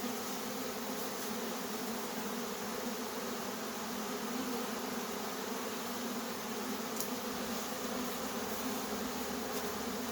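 A steady, dense drone of many honey bees buzzing close by at a hive with a drone-laying colony, continuous and unbroken for the whole stretch with no voices.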